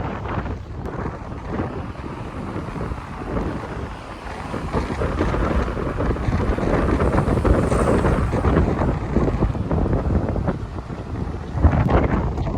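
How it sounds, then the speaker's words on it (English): Strong outdoor wind buffets the microphone in a continuous low roar, rising and falling in gusts over the whole stretch, with no talking. "it's so windy. You probably can't even hear me."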